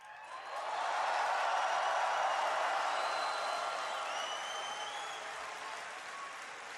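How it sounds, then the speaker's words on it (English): A large convention audience at the BlizzCon 2013 opening ceremony breaks into loud applause and cheering with scattered whoops, swelling within the first second and holding steady before easing slightly. "I want everyone here to give a big cheer to all of your friends watching at home"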